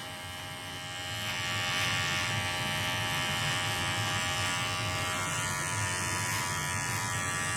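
Electric hair clippers buzz steadily and fairly close while tapering the temple area of a woman's short undercut bob in a salon. The hum holds at an even, moderate level for several seconds with no talking.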